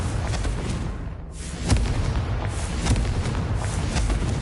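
Confringo fire spells explode in Hogwarts Legacy on PS5: a dense, rumbling blast with several sharp booming hits over continuous roaring game noise, loud and close.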